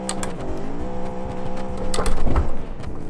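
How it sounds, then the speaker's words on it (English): A sports car with side exhausts runs close by, its engine rumbling steadily while sharp exhaust pops and crackles burst out, thickening near the end. "the popping of exhaust out of it."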